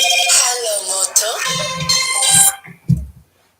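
A phone ringtone plays loudly with a repeating melodic pattern during a podcast recording, then cuts off as nearby voices talk over and after it.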